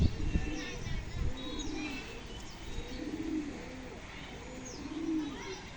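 A double-stripe pigeon coos in a series of low rolling burbles, repeated several times, while a person talks nearby over it.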